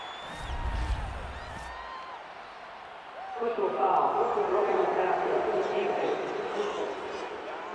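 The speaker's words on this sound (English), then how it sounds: "this crowd does not like that call" A simulated stadium crowd in a Madden NFL American football game swells into a loud, sustained roar of disapproval at a penalty call, while a commentator speaks over the broadcast.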